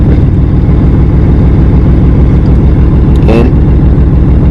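Diesel truck idling with the stock clutch pedal released, a loud, close and steady low-pitched rumble with an even pulse; a brief squeaky sweep rises near the end.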